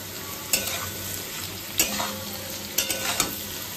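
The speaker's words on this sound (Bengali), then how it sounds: "এই যে আলু ভাজা হচ্ছে" Potatoes fry in a pan with a steady sizzle, broken by a few sharp scraping stirs of a spatula, close and fairly quiet, with no voices.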